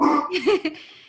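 A dog gives a short, close bark and whine in a home, a single brief vocal burst with little else around it.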